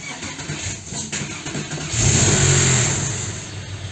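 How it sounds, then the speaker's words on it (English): A Porsche 911 cabriolet's engine cranks and catches, then settles into a loud, steady idle close by. No one speaks. "I'm going to try starting the car first"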